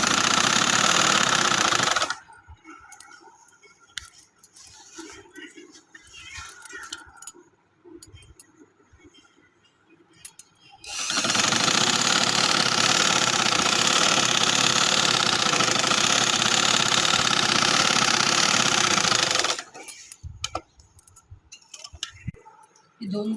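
Sewing machine running in two long, loud bursts as it stitches fine seams on white trousers, with a quieter stretch of handling noise and light clinks between them.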